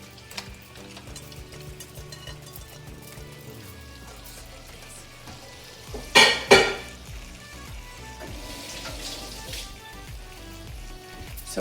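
Mixed seafood and mussels sautéing in a pan for Cuban paella, a steady close sizzle with crackling, two loud bursts of stirring or scraping midway, then the frying carries on alone.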